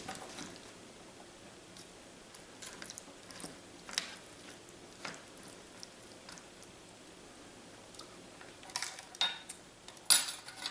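A spork clicks and scrapes against the tray of a French individual combat ration, sparse light clinks and scrapes scattered over quiet background, busier and louder toward the end.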